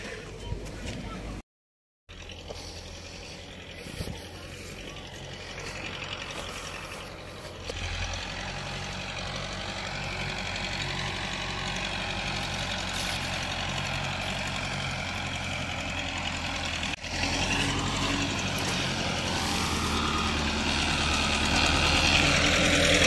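A 2023-model tractor with power steering idles and runs steadily throughout, a low continuous rumble that grows slightly louder, with a brief dropout near the start.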